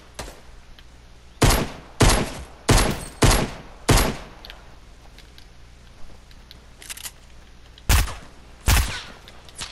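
Sniper shots ring out in a Fortnite Battle Royale match, roughly eight loud, sharp cracks, some in quick pairs and others spaced a second or more apart, each with a short decaying tail over a quiet background.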